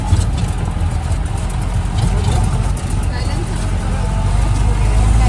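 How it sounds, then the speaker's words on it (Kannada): A Jeep on the Kodachadri trail revs hard while its tyres spin in place without moving it forward, a loud, steady, rough engine drone close up with faint voices in the background. "ಟೈರ್ ತಿರುಗ್ತಾ ಇರುತ್ತೆ, ಗಾಡಿ ಮುಂದೋಗಲ್ಲ."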